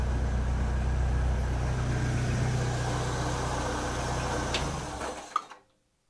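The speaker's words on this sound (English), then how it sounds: "This engine is super tired." A worn-out old car engine idles nearby, a low steady rumble with a faint rhythmic lope that holds for several seconds before cutting off abruptly near the end.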